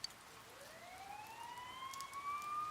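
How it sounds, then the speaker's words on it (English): A siren wails nearby in the video game Persona 4 Golden, a single rising tone sweeping upward and holding over soft rain-like noise, with no talk over it. "You hear sirens nearby."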